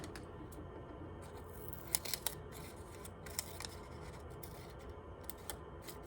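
Scissors snipping through paper cupcake liners, a series of close, crisp cuts spaced irregularly across several seconds over a quiet room background, with no talking.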